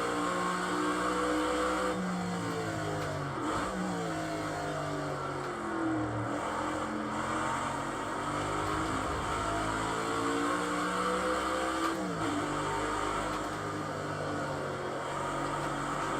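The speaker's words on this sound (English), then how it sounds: "Nice sounding V8." A V8 race car engine in Project Cars 2 drones and revs continuously on track, pitch climbing through gears and dipping on shifts, loud and steady with no talk.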